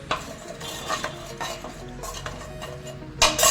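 Black cumin seeds and cinnamon crackle in hot oil while a spoon clinks and scrapes around the pan, a soft sizzle punctuated by uneven metallic stirring strokes and a louder burst near the end.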